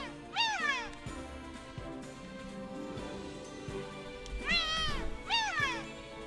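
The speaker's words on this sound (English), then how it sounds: "That's a weird Leafeon voice." Leafeon cries in New Pokemon Snap with a cat-like voice, short nasal meows. One comes early, then two in quick succession near the end, moderately loud over soft game background sound.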